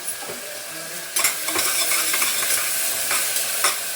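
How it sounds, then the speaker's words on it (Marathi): Vegetables and ground masala sauté in a pan, a close steady sizzle broken by repeated scraping strokes of a spoon or spatula stirring against the metal. "चांगलं परतून घेते"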